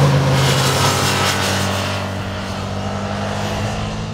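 A Ducati Scrambler motorcycle being ridden, its engine a loud, steady drone mixed with rushing wind noise that eases slightly as the ride continues.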